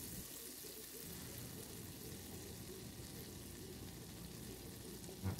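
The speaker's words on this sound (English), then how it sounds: "I have my frying pan nicely hot, and I'm going to melt about 2 tablespoons of butter." Butter melting in a hot frying pan gives a quiet, steady sizzle and crackle, faint and continuous throughout, ending with a small clatter.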